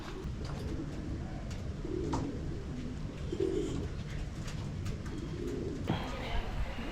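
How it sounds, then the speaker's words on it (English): Bird calls at a wildlife park an hour from Melbourne, with Australian magpies among them, heard as scattered calls over steady outdoor ambience while people talk nearby. "It's just like I'm at home with all the sounds of the magpies."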